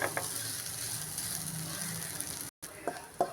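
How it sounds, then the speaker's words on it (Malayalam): A ground spice paste with mustard seeds sizzles steadily in hot oil while being stirred, with a continuous close frying hiss and occasional scraping clicks from the spoon against the pan. "ഇതിൻ്റെ പച്ചമണം മാറുന്നത് വരെ ഒന്ന് ഇളക്കി കൊടുക്കാം."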